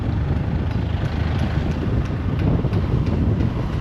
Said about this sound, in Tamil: நான் இப்போ பைக்கில் போயிட்டு இருக்கிறதுனால கொஞ்சம் காற்றும் அந்தளவுக்கு பயங்கரமாக அடிக்கும்